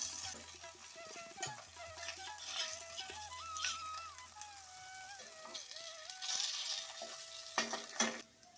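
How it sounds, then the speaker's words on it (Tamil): Raw banana slices coated in masala frying in a little oil in a wide pan, a faint continuous sizzle with scattered clinks and a couple of sharper scraping knocks near the end, no speech. "பாருங்கள் ஃப்ரை ஆயிடுச்சு எடுத்துடலாம்"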